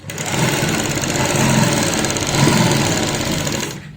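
A sewing machine runs steadily while stitching a straight seam on a fabric drawstring strip, its fast even needle rhythm loud and continuous before stopping just short of the end.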